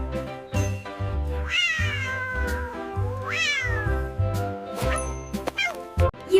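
Animated orange cat meowing in a children's 3D cartoon, with rising and falling meows over steady, bouncy background music.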